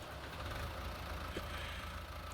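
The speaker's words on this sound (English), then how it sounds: "And we'll just pull this tractor forwards." A tractor engine in Farming Simulator 19 runs steadily with a low, even rumble and a constant droning texture, with no break in the sound.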